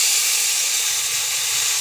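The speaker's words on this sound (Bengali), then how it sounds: "তো এবার আমি দুধটা দিয়ে দিচ্ছি কড়াইয়ে।" Cow's milk hitting a hot pan of fried vermicelli gives a steady, loud hiss and steamy sizzle that holds evenly throughout, with no voices.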